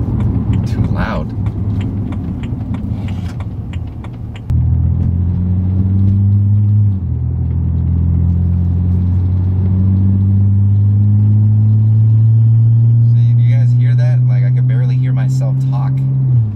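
BMW E90 328i with a dual exhaust conversion droning while driving in manual sport mode: a steady, loud, low exhaust hum sits inside the car and climbs slowly in pitch after a gear change, with brief talk near the start.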